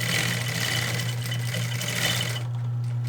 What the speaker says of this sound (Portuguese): Então aqui eu vou costurar